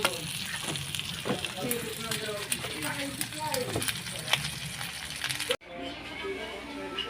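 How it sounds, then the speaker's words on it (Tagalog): Food grilling on a Korean grill pan over charcoal hisses and crackles steadily with sharp pops throughout, close up, cutting off briefly near the end before the sizzle resumes; no speech over it. "Ito na yung luto nung inihaw. Sa binili naming ihawan."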